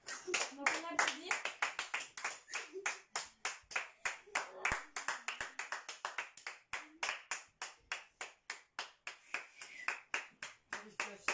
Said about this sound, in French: c'est le moment des applaudissements